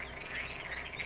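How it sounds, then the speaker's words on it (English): A video game duck in Farming Simulator 2017 gives a brief, nasal, buzzy quacking call, heard alone and fairly close for about a second. "I think they're supposed to be ducks."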